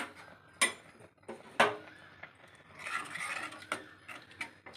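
Ladle stirring wheat payasam in a cooking pot, soft scraping and a few light metallic clinks up close, irregular and quiet with no talking.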